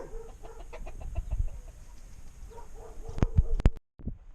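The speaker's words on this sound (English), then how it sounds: "A lot of chickens." A flock of chickens clucking along a jungle road, bursts of close clucks and squawks over rural ambience, with a few sharper louder calls near the end before a brief cut.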